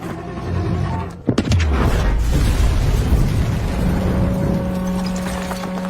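A bomb blasts in a corridor in a film scene: a sharp burst, then a heavy, sustained rumble of debris and noise that lingers for several seconds.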